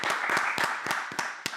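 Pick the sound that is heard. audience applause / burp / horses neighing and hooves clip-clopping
audience applause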